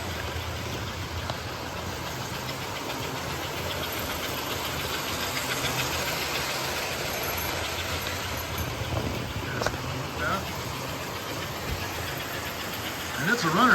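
An American Flyer model train runs steadily around a Christmas display layout, a continuous low mechanical hum and rumble with a faint metallic whir. It stays even throughout, with a slight swell at the end.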